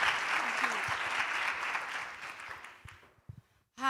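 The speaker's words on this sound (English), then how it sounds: "Please give her a round of applause." An audience at a conference applauds a student who has just stood up, a fairly quiet burst of clapping that thins out and fades to silence near the end.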